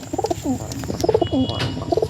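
Dom pigeons, a breed of high-flying endurance pigeons, coo in soft repeated bursts, several close rolling calls in quick succession over a low background murmur.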